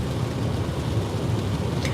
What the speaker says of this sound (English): This is just a really rainy day.